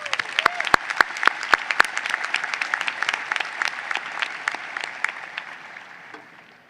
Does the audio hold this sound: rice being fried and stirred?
no